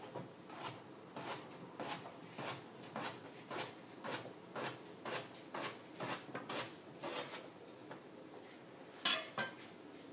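Potatoes sliced thinly, about 2 mm thick, with a knife for tartiflette: a steady, even run of crisp, close cuts repeating roughly every half second, with no talking.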